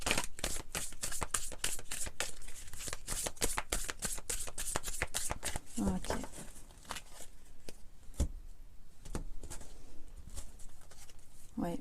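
Tarot cards are shuffled in quick crisp riffles, a close rapid flutter for several seconds that then thins to a few scattered card slaps, while someone speaks French throughout.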